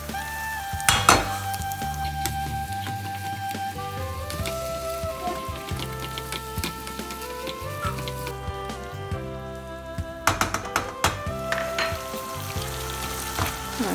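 Meat cooking in a pan for meat and potato bricks, with utensils clinking and scraping against the cookware over a soft, steady sizzle, the clatter rising in a few sharp bursts near the end.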